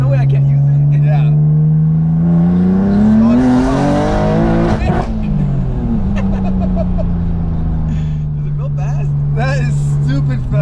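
An 800hp BMW M2 in sport plus mode accelerates hard, its engine note climbing loudly through the gears with a shift midway, while people inside the car talk and react over the roar.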